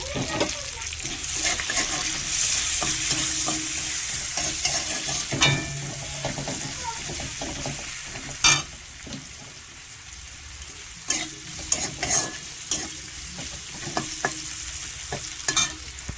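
Bay leaf and nigella seeds with onion sizzle in hot oil for a Bengali prawn dish, a steady bright crackle with scattered sharp spatters and occasional utensil knocks, fairly close and moderate in level.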